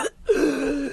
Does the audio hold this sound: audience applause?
no